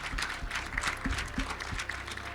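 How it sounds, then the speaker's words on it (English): An audience claps steadily for a couple of seconds, a busy patter of many hands at moderate volume. "a round of applause for an excellent week"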